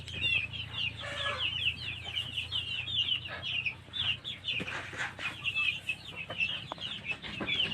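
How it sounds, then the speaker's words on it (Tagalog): A mixed flock of Black Australorp, Rhode Island Red and Hubbard chickens on a farm keeps up continuous, overlapping soft clucks and chatter nearby. "ang ating batch number 1. So assorted po din ito mga ka-farm boys, Black Astrolord, Rhode Island Red at Hubbard."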